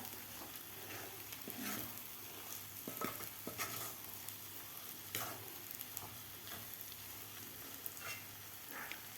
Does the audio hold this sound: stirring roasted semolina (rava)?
yes